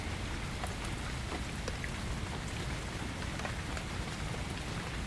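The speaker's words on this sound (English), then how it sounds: "Listen closely, and you can hear the faint, hollow thud of a heavier drop falling from a higher branch" Steady rain falling in a forest, a dense, even patter of drops hitting leaves and surfaces, close and constant with no voices.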